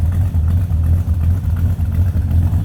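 A 1967 Pontiac GTO's 400 V8 idles close by with a deep, steady, throbbing rumble that pulses evenly throughout.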